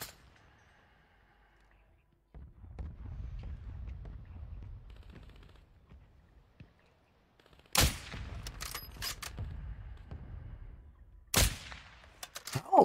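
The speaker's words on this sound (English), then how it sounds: "They're shooting another team." Distant gunfire between teams in a shooter game, faint scattered shots under a low background rumble, broken by two sudden loud, close bursts of fire.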